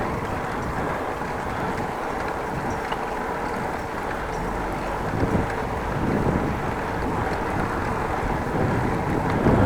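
Wind roars in a steady, broadband rush across the microphone while riding or travelling along a rural road between Ten Post and Groningen, sustained throughout with slight gusts rising toward the end.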